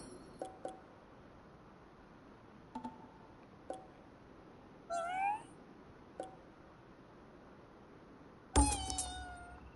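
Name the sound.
cat meowing in video game Ghostwire: Tokyo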